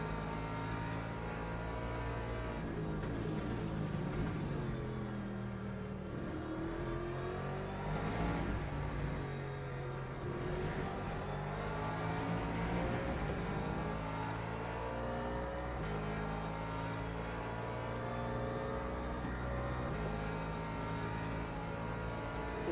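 A Porsche race car engine drones steadily in the Le Mans Ultimate racing game, a constant loud roar with rising and falling revs through gear changes, heard alone without talk.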